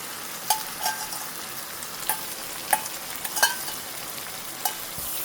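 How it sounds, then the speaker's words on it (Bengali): Dried fish, lote and kachki shutki, fries with spices in a pan, a continuous low sizzle broken by sharp intermittent clicks and scrapes of a stirring utensil. "এখন আমি এগুলা সুন্দর করে মশলার সাথে কষিয়ে নিব।"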